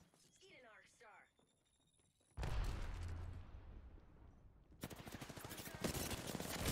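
Gunfire in an online shooter video game during a ranked match: a brief voice at first, then loud rapid bursts of shots that crackle on for several seconds, growing denser near the end.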